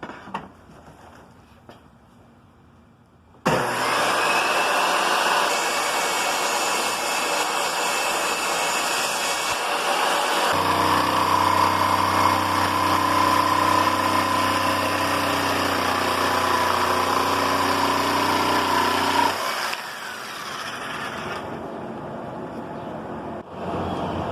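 Power tool cutting a marked plywood seat base for a go-kart, a loud, steady whine that starts abruptly, deepens in pitch midway under load, and then drops back before stopping, with no talking.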